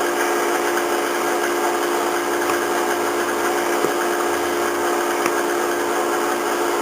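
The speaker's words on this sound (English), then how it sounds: "I hear our butter and sugar over there in the background whirling away." A stand mixer whirls steadily in the background, creaming butter and sugar, a constant high whine and hum with a few faint clicks, continuous and fairly loud.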